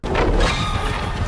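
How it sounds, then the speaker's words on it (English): A loud, harsh crashing burst lasting about a second: Vecna's small area-of-effect attack sound in Dead by Daylight. "When Vecna tries to go and use his small AoE attack, a loud sound effect plays"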